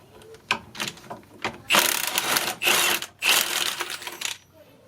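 A ratchet on a swivel socket clicks rapidly in several bursts while working on the front brakes of a 2008 Kia Sedona. The clicking is close and loud, with short pauses between strokes.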